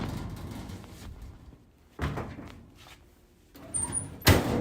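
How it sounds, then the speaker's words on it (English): A heavy dungeon door sound effect on a talk show lands in a couple of thuddy, rumbling bursts over a low ambient bed, ending with a sharp clank near the end. "That's the dungeon door."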